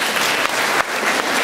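Loud, dense clapping from an audience fills the whole moment, steady and close with no voices.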